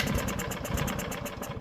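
A Lawnboy lawn mower engine sputters briefly to life on a test pull after brake cleaner is sprayed into the carburetor, giving a steady, rough, pulsing engine drone up close.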